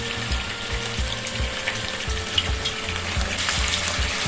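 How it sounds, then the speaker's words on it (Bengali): Chicken pieces fry in oil and ghee in a wok, a steady close sizzle with crackling spatters and a low rhythmic bubbling underneath, with no talking. "এবার এই চিকেনগুলোকে ভেজে নেবো"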